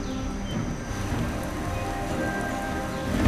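Heavy rain falls in a wet mountain jungle, a dense, even hiss of raindrops pattering on leaves and surfaces, steady throughout with a slight swell at the end.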